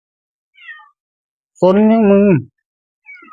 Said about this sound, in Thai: ไอ้เหมียวเหมียวขึ้นไปทำไม